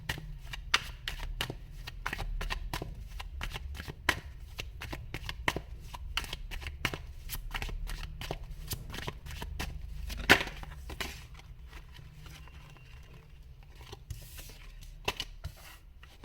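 Tarot cards shuffled by hand in a long run of crisp, rapid riffling flicks, close and fairly loud, with one sharper snap near the middle and the pace loosening toward the end; no one speaks.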